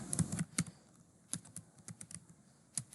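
Typing on a computer keyboard while building an HTML form, with irregular bursts of crisp, close key clicks and short pauses between them, no talking.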